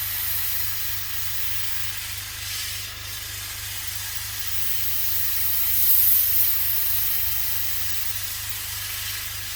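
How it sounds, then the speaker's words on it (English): An airbrush sprays acrylic paint onto a Bandai A-wing model kit, a soft, steady hiss that swells slightly toward the middle, faint and close with a low electrical hum beneath. "You notice I'm pulling further back with the airbrush now"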